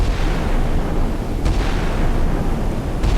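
A County-class destroyer's twin 4.5-inch naval gun firing in a 1960s naval combat game, loud booming reports over a rumbling, roaring background, with a couple of sharper bursts spaced apart.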